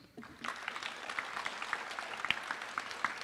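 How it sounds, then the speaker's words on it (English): Applause at a fire department awards and recognition ceremony as a commissioner is welcomed to the stage, beginning quietly and swelling within half a second into moderate, scattered clapping from a modest audience, with sharp individual claps and a few whoops. "he needs louder applause, you guys."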